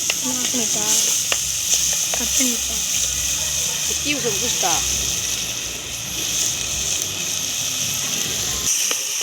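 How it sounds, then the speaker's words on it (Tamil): Onions sautéing with ginger garlic paste for a Sunday prawn gravy give a steady broadband sizzle throughout, with intermittent stirring scrapes, while a person talks over it. "வெங்காயம் நல்லா வதங்கிட்டுருக்கு"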